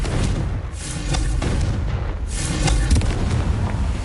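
Confringo fire spell explosions from the Hogwarts Legacy video game, a dense, loud run of booming blasts and crackling bursts that roll on continuously with no pause across the whole stretch.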